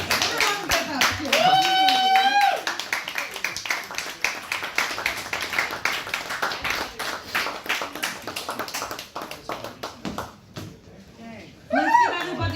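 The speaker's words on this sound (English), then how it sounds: "Let's give everybody a round of applause." Clapping from the audience at a fundraiser variety show: rapid claps run throughout under cheering and loud talk, with a whooping or whistling voice near the start and a shout at the end.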